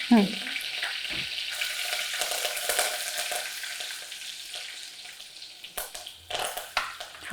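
Curry leaves sizzle and crackle steadily in hot oil in a pan while cooking batani rice bath, a close, continuous frying hiss with a few sharper pops and stirring noises near the end.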